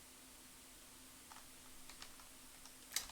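Quiet, sparse keyboard typing: a few soft clicks spread across a few seconds, with one sharper keystroke near the end, over a low steady room hum.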